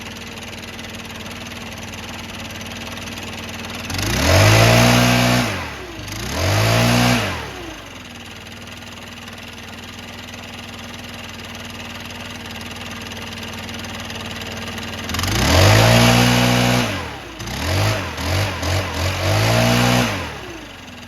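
Stihl BR600 leaf blower engine after carb and idle adjustment, a steady low idle broken by four throttle blips that rev up sharply and fall back, the last one a quick stuttering series.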